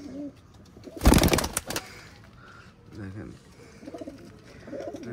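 Famous chot breed pigeons coo softly nearby, with a sudden loud burst of flapping or rustling near the start and someone speaking briefly between the calls.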